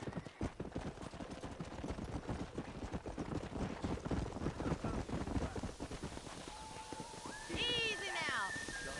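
Steady clip-clop of horse hooves in Red Dead Redemption, a brisk rhythmic trot close up throughout, with a rising whinny-like call near the end.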